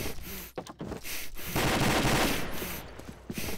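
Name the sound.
gunfire from a gun in a video game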